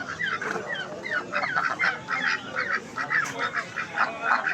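A goose at a Turkish poultry market honks repeatedly in short, nasal bursts, a fairly quick irregular series of calls over a faint background of market noise, with no speech.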